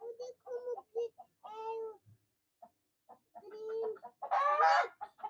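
Egg-laying hens cluck in short bursts with pauses, ending in a louder squawk; a few clucks come close together and nearby.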